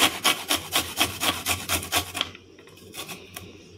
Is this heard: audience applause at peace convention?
no